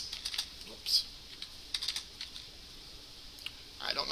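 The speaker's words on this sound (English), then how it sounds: "I don't know where I'm typing." Keys clatter on a computer keyboard in scattered, uneven bursts, faint and close, with a quicker flurry of keystrokes near the end.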